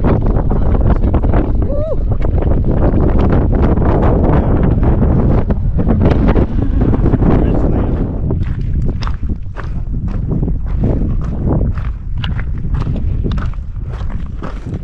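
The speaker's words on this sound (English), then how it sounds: "Windy." Wind buffeting the microphone on a hike across the English Lake District between Borrowdale and Grasmere, a loud steady roar that lasts throughout with footsteps and voices underneath.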